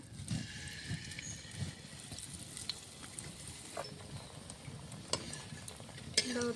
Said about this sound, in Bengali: ওদিকে চিতই পিঠাটা ভাজা হচ্ছে